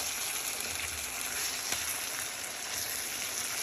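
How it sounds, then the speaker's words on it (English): Taco meat frying in a sticky pan, a continuous soft hiss and crackle of sizzling heard close up, steady throughout with one faint scrape near the middle. "Chop it up and let it cook more."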